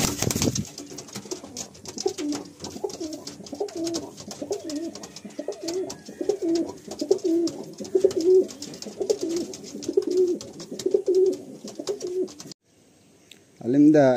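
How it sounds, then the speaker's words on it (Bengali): Pigeons in a breeder's loft coo softly and repeatedly in a soft, continuous backdrop of rhythmic calls, with a few louder coos up close. "আলিমদা দেখুন, এই পায়রা দুটো চোখগুলো হলুদ, কিন্তু এই পায়রাগুলো ওড়ে"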